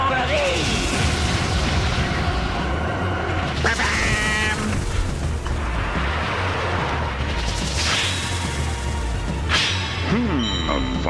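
Repeated booming explosions and blasts from the Blue Rogues crew special attack in Skies of Arcadia, dense and loud across the whole stretch, with game voices shouting between impacts.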